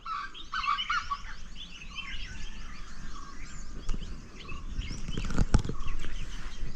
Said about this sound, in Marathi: ह्या जंगलात पक्ष्यांच्या आवाजाशिवाय काही ऐकायला येत नाही.